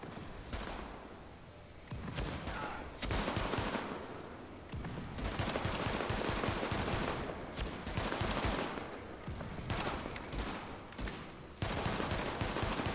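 Rapid gunfire from the video game The Division, dense overlapping bursts and volleys, loud and continuous across the whole stretch with brief lulls, like a sustained firefight defending a city block against scavengers.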